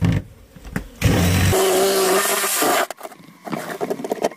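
Reciprocating saw cutting in a burst of harsh, buzzing noise lasting under two seconds, set between quieter rustling and knocking.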